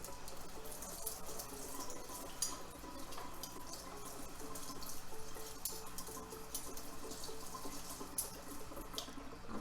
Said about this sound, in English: Let me rinse these.